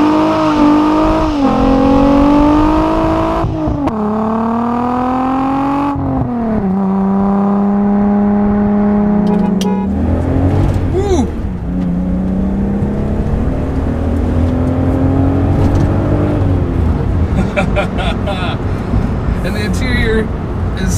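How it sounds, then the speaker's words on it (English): A 1990s Volkswagen GTI with a VR6 engine and a cat-back exhaust revs up and down several times close by, with sweeping engine tones that rise and fall loudly and a sustained high rev near the end. "amazing VR6 sound"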